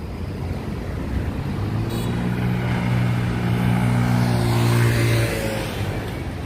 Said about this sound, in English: CVS delivery truck